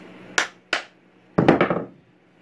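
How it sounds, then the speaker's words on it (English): Two sharp hammer strikes drive a wooden wedge into a walnut hammer handle, followed by a quick burst of three or four rapid blows, close and crisp, in a quiet room. "Let's go ahead and hammer this one down in there too."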